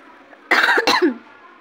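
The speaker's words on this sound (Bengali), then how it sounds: "প্রচণ্ড কাশি হয়ে গেছে" One person coughs close up, a quick harsh double burst in an otherwise quiet room.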